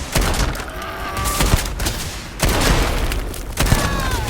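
Gunfire in the video game Starfield: several loud, dense bursts of weapon shots with booming impacts, recurring in clusters.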